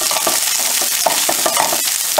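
Onion sautéing in a pan with garlic, green chili and curry leaves makes a dense, loud sizzle, broken by quick scraping stirs of a spoon at an uneven rhythm.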